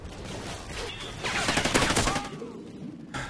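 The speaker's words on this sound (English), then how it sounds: "Apparently, the sounds of gunfire sound like popcorn." Rapid bursts of gunfire in the video game Call of Duty: Ghosts crackle and pop over a steady background hum, loudest in the middle and trailing off near the end.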